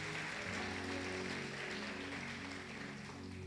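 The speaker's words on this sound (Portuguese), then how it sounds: "Você pode aplaudir o Senhor, faça com alegria" A church congregation applauds during an evening service, a dense, continuous wash of clapping that sits steady and moderately distant, with a low musical hum beneath it.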